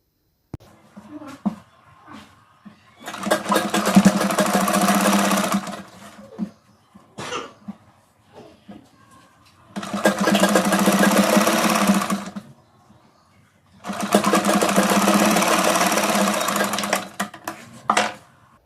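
Sewing machine stitching sleeves onto a gown made from an old skirt, running in three sustained bursts of steady mechanical whirring separated by quieter pauses with small handling noises, close and loud.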